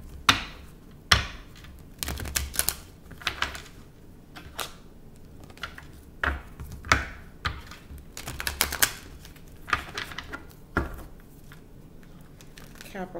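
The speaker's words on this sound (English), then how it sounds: "I'm gonna shuffle a couple more times" Crisp papery snaps and riffles of a tarot deck being shuffled, coming in repeated bursts with short pauses, close and fairly loud.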